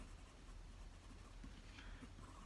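A Pelikan Souverän M800 fountain pen with an 18 carat medium nib writing on paper, giving a faint, steady, close scratching rustle over a low hum, with nobody speaking.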